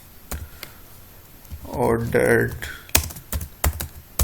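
Computer keyboard typing while entering HTML list code, scattered sharp key clicks in short bursts, close, with someone speaking briefly in the middle.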